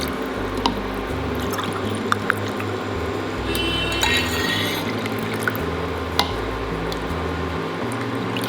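Water poured into a pot while preparing a henna hair-color decoction, a steady liquid splash and trickle with scattered drips and clinks, close and moderately loud, no talking.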